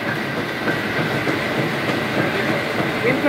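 A village mustard oil machine runs with its roller turning, making a continuous mechanical clatter and rumble at close range with no pauses.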